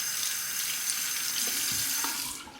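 Water running steadily from a tap to rinse a shaving razor, a close, continuous hiss and splash, with a couple of faint knocks near the end and no talk.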